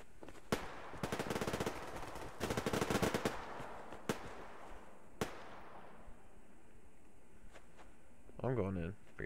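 Rapid bursts of machine gun fire from the Survarium shooter game, loud staccato volleys in the first few seconds followed by scattered single shots, with a voice briefly speaking near the end.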